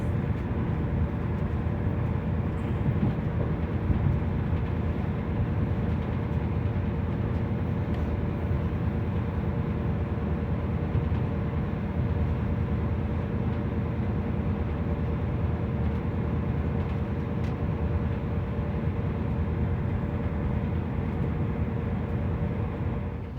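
Interior of a long-distance train on the Aberdeen to Penzance line, with a steady low rumble and hum of the carriage in motion, even and continuous, no talk.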